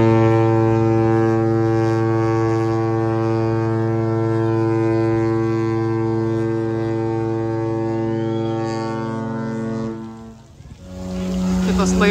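MSC cruise ship horn blasting on departure from port, a loud, deep sustained tone held for about ten seconds before cutting off, with a short second blast starting at the end.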